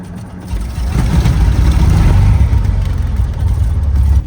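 A Cessna 206 single-engine plane's engine runs steadily at close range, a loud, low, continuous drone with a slight rise after the first half second.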